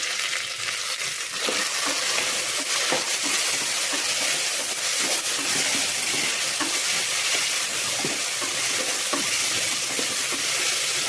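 Tomatoes, green chillies and salt frying in a pan for chicken biryani, a steady loud hiss and sizzle with faint stirring clicks throughout, no voices.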